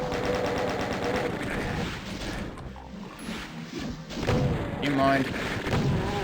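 Chaingunner enemies in Doom, played in DSDA-Doom, unleash rapid bursts of gunfire with heavy thuds, loud and close, easing briefly before more shots; someone speaks over the clatter.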